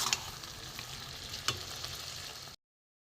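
Fried pointed gourd and potatoes sizzle in oil with grated egg and spices, a steady close frying hiss broken by a few stirring scrapes, then a short silence.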